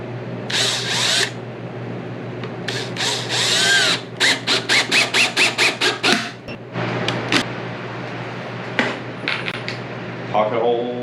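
Power drill driving pocket hole screws into a wooden garden bench, with a few long whirring runs and then a fast series of short trigger bursts, close and loud, followed by scattered clicks and brief ratcheting.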